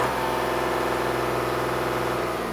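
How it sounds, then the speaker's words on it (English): Steady low car engine rumble, constant and loud, idling without pauses. "Let's listen to this engine recording. It starts with a low constant rumbling sound,"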